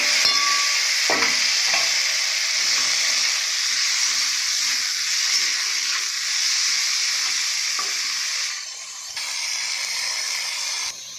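Tomato and salt frying in a hot pan with onions, a loud, steady sizzle and hiss running nearly unbroken, with brief stirring scrapes and a short dip near the end.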